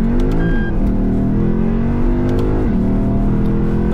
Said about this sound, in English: So we're going to do a wee pull from a standstill.